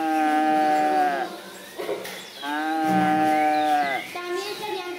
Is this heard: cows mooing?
yes